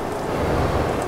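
Steady broadband rain hiss from Euro Truck Simulator 2 on a Volvo coach's drive through stormy weather, a continuous wash of drops with low rumble underneath and no voices.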